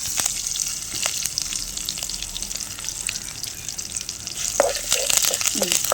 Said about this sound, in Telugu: జీలకర్ర రెండు స్పూన్లు వేసాను లాస్ట్లో కరివేపాకు కొంచెం